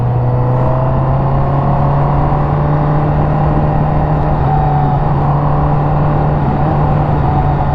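A 2021 Honda CBR1000RR motorcycle accelerating with a quick shifter, its engine holding a loud, steady drone close by with a faint shift in pitch partway through and wind rush over it.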